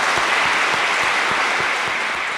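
Audience applause after a theological debate between two speakers, a dense, steady roar of many hands clapping, loud and sustained throughout with no voices on top.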